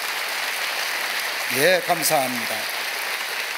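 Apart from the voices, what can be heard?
congregation applauding in church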